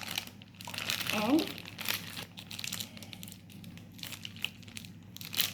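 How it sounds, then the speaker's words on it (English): A plastic Ziploc bag lifted out of a cup while making homemade jalebi, crinkling in a short burst of close, rustling crackles, with a speaking voice nearby and softer handling noises afterward. "I'm going to lift up the Ziploc bag from my cup"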